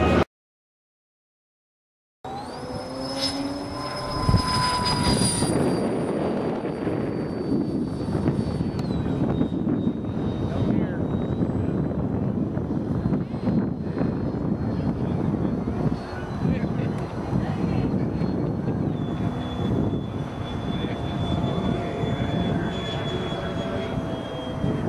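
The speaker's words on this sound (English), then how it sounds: "We're flying a Wimotec fan with an ARC 2848-1 motor." Electric ducted-fan RC F-20 jet with a Wimotec fan and ARC 2848-1 motor whines overhead in flight, a sustained rushing hum with shifting pitch and wind buffeting after a brief silent start.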